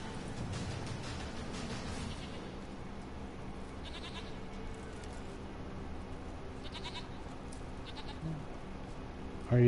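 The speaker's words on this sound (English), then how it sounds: "I hear you, Mr. Goat." A goat bleats a few times at moderate distance, short wavering cries over a low, steady background hum, with no speech.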